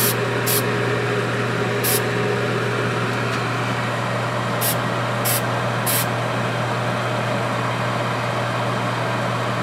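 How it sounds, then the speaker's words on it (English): Spray paint cans hiss steadily inside a homemade spray booth built from a rear projection TV, a continuous loud rush over a constant fan hum, with a few short sharp bursts. "Of course, now this is with spray cans."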